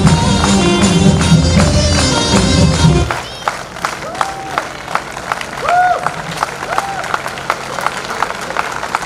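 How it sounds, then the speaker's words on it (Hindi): Applause for children at a Dr. Ambedkar Jayanti celebration, dense clapping and crowd noise over music for about three seconds, then dropping to scattered claps and murmur with tonal sounds overhead. "बच्चों के लिए जोरदार तालियां, तालियों का शोर सुनाई देना चाहिए"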